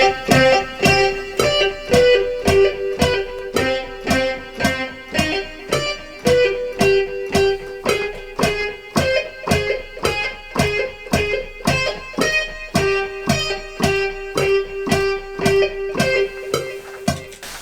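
Distorted lead guitar patch from the Expand!2 plugin in Pro Tools, playing a steady rhythmic line of evenly spaced, sustained plucked notes with a gritty edge, loud and alone.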